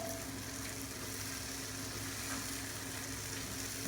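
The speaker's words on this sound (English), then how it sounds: "So I'm just going to let that garlic cook for about 2 minutes in the caramelized onions" Chopped garlic sizzles steadily in a pan with caramelized onions for an osso bucco, giving a soft, even, continuous frying hiss with no voices.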